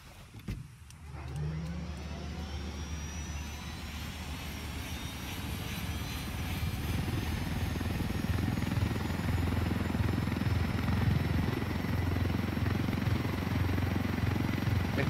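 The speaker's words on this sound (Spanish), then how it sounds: "Realmente es un monstruo de helicóptero." A helicopter in Ghost Recon Wildlands flies close by, its steady, loud rotor and engine drone building slightly and holding for about fifteen seconds, with no talking over it.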